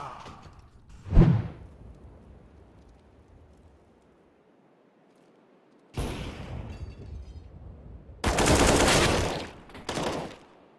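Operator sniper rifle shots in Valorant, two loud cracks separated by quiet moments, the first a short isolated bang and the later one a longer, louder burst of gunfire-like noise followed by another blast.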